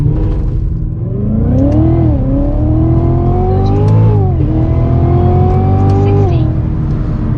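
A Cadillac CTS-V3 accelerates hard: loud engine pitch climbs steadily, dips at two gear shifts, then climbs again, heard close and continuous throughout.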